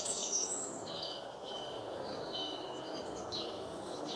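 Birds chirp and crickets trill softly in an outdoor setting, a steady high chatter of calls over a quiet background hush.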